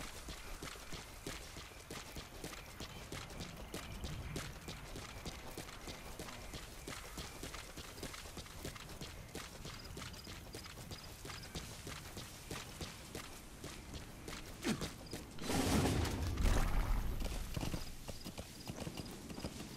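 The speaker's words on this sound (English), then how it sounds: "Let's get back to the horse and go north." Rhythmic hoofbeats clip-clop steadily as a horse moves along at a quick pace in Metal Gear Solid V, with a brief louder rumble of movement near the end.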